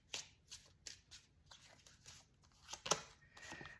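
Oracle cards being shuffled and drawn by hand, soft riffling flutters and slaps in short bursts, quiet and close.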